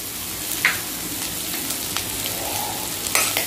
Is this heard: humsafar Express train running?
no